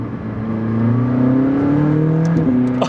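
A McLaren 600LT's mid-mounted turbocharged V8 heard from inside the cabin, exhaust close behind, a loud steady drone that rises gradually in pitch as the car pulls.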